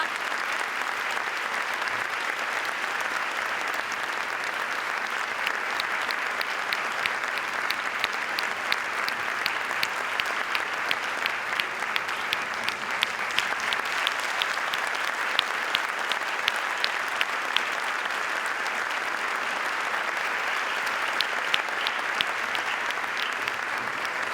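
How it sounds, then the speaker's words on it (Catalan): A crowd at a sports gala in Nules applauds the Olympic torch bearer, a long, even wash of clapping that holds steady the whole way through, dense and fairly distant, with almost no voices. "Un fort aplaudiment per a ell"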